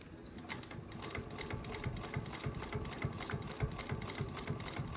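Juki 1541s industrial sewing machine stitching suede onto cotton, a steady rapid clatter of needle strokes running continuously at moderate volume, no voices.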